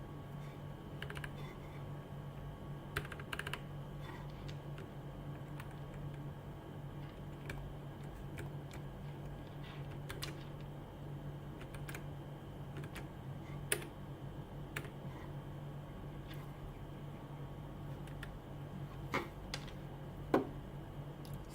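Faint, scattered keystrokes on a laptop keyboard over a steady low hum, sparse and irregular with a few sharper clicks standing out, and no one speaking.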